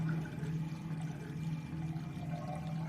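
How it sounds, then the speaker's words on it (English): Water drains slowly from a soaking tub in a bathroom, a faint, steady gurgling trickle that carries on without a break. "The constant noise of water slowly draining from the soaking tub in our bathroom could be heard."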